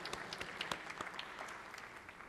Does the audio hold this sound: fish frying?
no